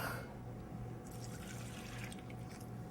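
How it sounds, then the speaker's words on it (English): A steady, faint liquid pour as milk runs into whisked eggs for a bread pudding custard, continuous and close with no speech. "Next, we're going to add our milk."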